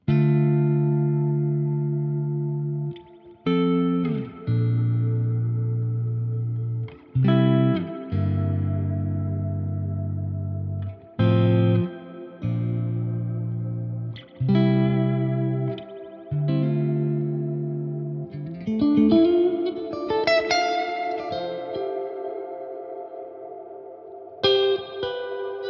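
Electric guitar played through a Tone King Imperial tube preamp with the ambient setting turned all the way up, giving sustained chords and single notes that ring out with echo and reverb, each swelling and decaying before the next is struck.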